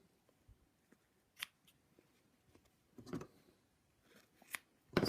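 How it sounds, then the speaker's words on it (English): Scissors giving a few small snips to trim something off, quiet scattered cuts with a couple of louder sharp snips near the end, alone in a quiet room. "I'll just give a little snip here and a little snip there. Just cut this off."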